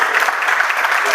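Audience applause at a Veneto regional festival gathering in Verona, a dense, steady clatter of clapping filling the whole moment with some crowd voices mixed in.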